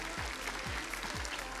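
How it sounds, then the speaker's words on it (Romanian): Audience applause at a Romanian entertainment show, a short burst of dense, continuous clapping lasting under two seconds, fairly faint. "Aplauze!"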